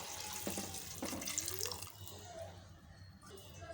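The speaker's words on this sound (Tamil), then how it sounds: "இது மூழ்கிற அளவுக்கு தண்ணி சேர்த்துப்போம்" Water is poured into a pressure cooker over vegetables for a home recipe, a faint splashing, running stream that trickles and tapers off toward the end.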